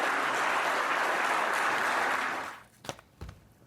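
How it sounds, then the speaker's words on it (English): Applause and cheering from a politician's supporters, a dense steady roar that cuts off abruptly, followed by a couple of isolated thumps. "To great applause from her supporters."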